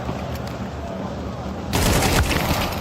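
Mac-10 submachine gun fire in a Counter-Strike 2 match, a quiet stretch of game ambience that breaks into a loud rapid burst of shots partway through, with a commentator's voice over it.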